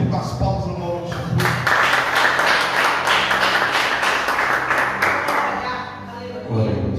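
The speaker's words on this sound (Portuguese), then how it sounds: "Vamos receber o pastor Felipe com as palmas no nome de Jesus" A church congregation applauds steadily to welcome Pastor Felipe at a doctrine service, a dense, sustained wash of clapping that dips briefly near the end before swelling again, with voices mixed in.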